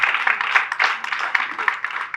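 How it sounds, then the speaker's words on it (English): An audience at a presentation applauds a speaker, dense steady clapping from a crowd that holds for the whole stretch. "Please let's put our hands together for her."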